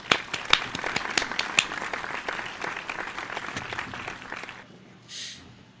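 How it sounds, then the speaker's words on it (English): A small audience applauds for about five seconds, steady mixed clapping at close range that fades out near the end, with a brief cheer or whoop. "round of applause"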